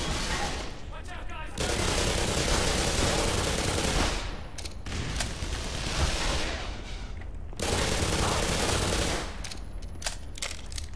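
Heavy gunfire in Black Mesa comes in long, loud bursts of sustained automatic fire, broken by brief quieter gaps between volleys.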